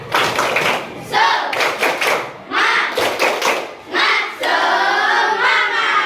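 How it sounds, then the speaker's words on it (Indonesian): A school class performs a rhythmic clapping chant, with children's voices chanting in unison over bursts of sharp claps and thumps. The sound is loud and close, arriving in short repeating phrases. "Tepuk semangat."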